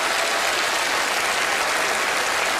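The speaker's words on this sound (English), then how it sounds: "A big round of applause for our very observant spectators." Dense, steady applause from a theatre audience at a Penn & Teller magic show, a broad wash of many hands clapping at a constant level for a few seconds, with no voices on top.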